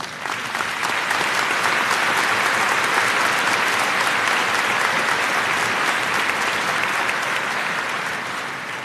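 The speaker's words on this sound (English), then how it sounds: "Allison, I would ask you to please join in honoring her with a round of applause" Sustained applause from a large audience at a high school commencement, honoring the salutatorian, steady and dense throughout with no speech, tapering slightly at the end.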